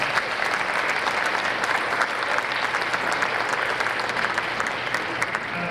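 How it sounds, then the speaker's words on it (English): A crowd at a school district employee retirement and recognition program gives committee members a round of applause, loud continuous clapping from many hands throughout. "Give them a round of applause"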